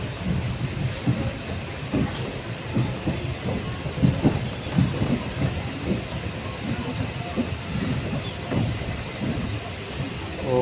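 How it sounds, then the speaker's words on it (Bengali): The inside of a moving train carriage rumbles steadily, with repeated wheel clatter on the rails under a low continuous roar that holds at a moderate level throughout. "ট্রেনে যাচ্ছি।"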